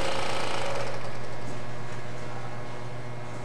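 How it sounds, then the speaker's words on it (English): A wine filter vacuum pump runs during degassing, a steady loud mechanical buzz with a low hum underneath that slowly fades slightly, continuous and close with no voices. "it's time to basically unplug the filter pump"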